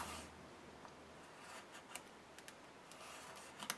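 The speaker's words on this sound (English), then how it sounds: "I'm going to be using an X-Acto knife to trim off some of these things" A close, quiet X-Acto knife trims loose paper pieces for a mini album, with faint scraping and small slicing ticks scattered over a low steady hiss.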